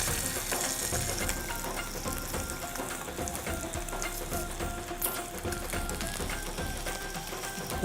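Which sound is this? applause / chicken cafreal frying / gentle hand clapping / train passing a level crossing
chicken cafreal frying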